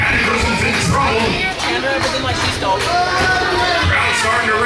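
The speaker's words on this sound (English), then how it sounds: "Crowd starting to rally behind Joey just a little bit here" A wrestling crowd at a casket match rallies behind wrestler Joey Dreamer, a dense, steady roar of cheering and chatter that fills the space from start to finish with only a brief dip midway.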